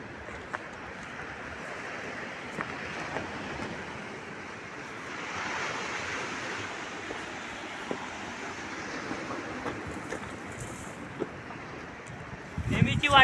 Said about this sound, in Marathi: कसा आहे का नाही भारी आपल्या गावचा समुद्र.